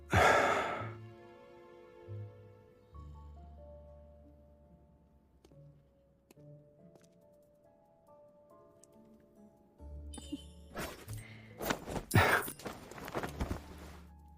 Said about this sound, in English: Your footsteps are noisy, and you breathe heavily